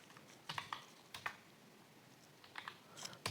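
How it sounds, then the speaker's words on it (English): Keys clatter on a computer keyboard while someone enters a C program, in short irregular bursts of quick taps separated by brief pauses, close but soft and with no voice. "So here I am typing like enter the value for"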